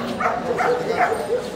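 A guard dog at a street market for private security dogs gives a string of short yips and barks, close and moderately loud, with people talking around it.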